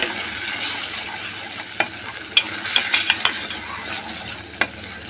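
Spoon stirring and mixing homemade pizza ingredients with sugar and salt in a pan, a steady scraping swirl with a few sharp clinks of metal against the pan, close and alone with no talk.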